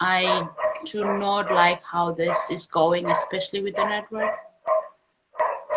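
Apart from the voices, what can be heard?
dogs barking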